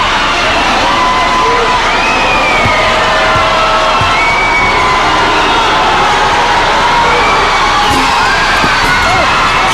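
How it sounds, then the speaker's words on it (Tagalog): A packed arena crowd at a Negros versus Cebu basketball game roars and shouts nonstop during a free throw, a loud, dense wall of cheering with shrill rising whoops and yells layered across the whole stretch. "Crowd getting louder every time Matt Mitchell tries a free throw"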